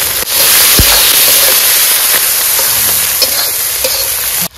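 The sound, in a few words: onion, garlic, green chili and ginger frying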